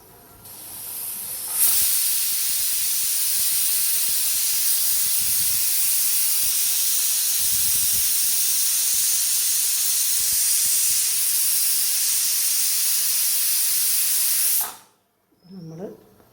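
A loud, sustained hiss of steam blasting from a pressure cooker whistle while cooking chicken curry, lasting several seconds, then cutting off abruptly.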